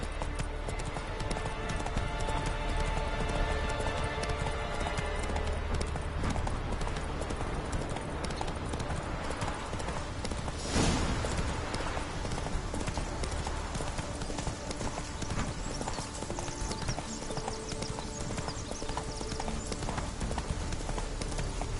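Roach the horse galloping in The Witcher 3, a steady, continuous clip-clop of hooves under a dense bed of game ambience, with a brief louder burst partway through.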